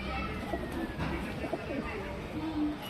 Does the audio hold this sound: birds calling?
yes